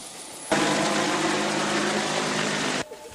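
Helicopter transporting emergency patients during a nuclear plant accident evacuation drill, a steady broadband rotor and engine roar that starts abruptly, holds loud and constant for about two seconds, then cuts off.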